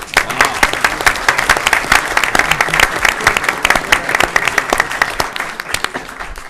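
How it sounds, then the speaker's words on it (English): Steady applause from an audience at a school board meeting honoring students, dense clapping sustained evenly throughout, loud and close with no voices. "So we'd like to give them a round of applause."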